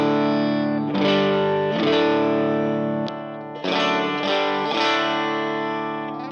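Clean electric guitar played through a worship pedal board, sustained strummed chords ringing with shimmering modulation and reverb, changing chords every second or so, loud and alone.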